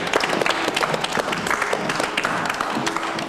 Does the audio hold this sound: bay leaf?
no